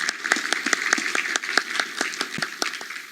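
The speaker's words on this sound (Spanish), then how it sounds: "Un aplauso para el doctor Ambrosio," Small audience clapping after an academic presentation on Monte Carlo option pricing, sparse distinct claps in an uneven rhythm, moderately close, with no talk.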